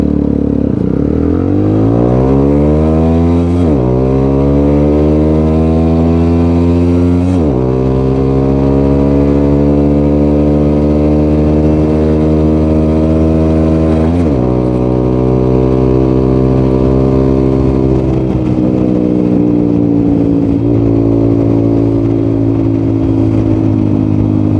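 A Sigma 250 motorcycle fitted with a 30mm carburetor accelerates hard from a stop toward 60, its loud, close engine rising in pitch through several gear changes with brief dips between pulls.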